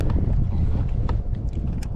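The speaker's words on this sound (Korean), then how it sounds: "바람이 세다." Strong wind buffets the microphone in a steady low roar on a boat at sea off Sambong Beach while fishing for webfoot octopus, with faint water and hull knocks through it.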